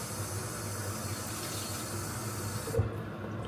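A kitchen faucet runs in a steady hissing stream to wet a cleaning cloth, continuous and fairly close, then cuts off abruptly near the end with a small bump.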